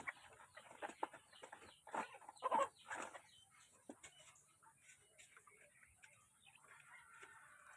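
Hens in a backyard coop of about fourteen laying hens cluck in short, scattered bursts at a moderate distance, with a faint steady hiss in the background.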